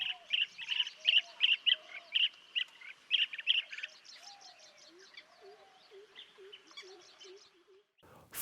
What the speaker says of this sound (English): Painted storks and other birds busy feeding.